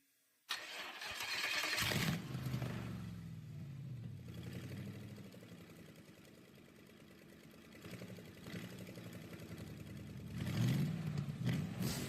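A car engine, bought for a drift project, cranks and catches while mounted on a pallet in the open, then idles roughly close by with a couple of throttle blips swelling the rumble.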